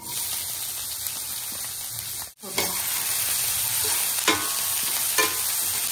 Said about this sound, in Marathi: आपण कांदा परतून घेऊया.